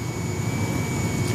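CNC machine nicknamed Behemoth flattening bar stock in a shop, a loud steady low roar with a high tonal whine above it, continuous and close with no talking.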